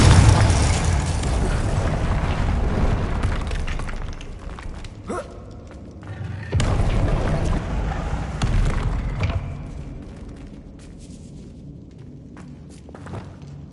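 Confringo spell explosions in a Hogwarts video game, a series of booming blasts and thuds amid continuous game rumble, loud at first and fading to quieter ambience.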